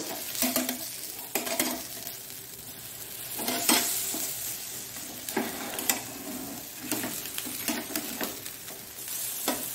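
Capsicum protein bites frying gently in a little oil over a low flame, a soft steady sizzle broken by repeated scraping and stirring clinks of a utensil against the pan.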